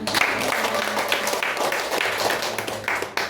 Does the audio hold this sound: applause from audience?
yes